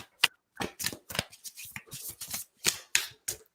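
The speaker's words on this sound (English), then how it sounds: "I'm gonna do some more shuffling" Close, crisp riffling of a deck of cards, several quick bursts of shuffling in an uneven rhythm with brief pauses between.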